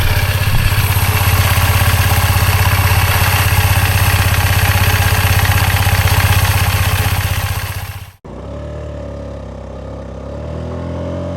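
Honda Navi scooter engine fitted with an upgraded S23 variator and clutch runs loud and close with a steady buzzing idle, then briefly cuts out and settles into a lower, quieter running hum.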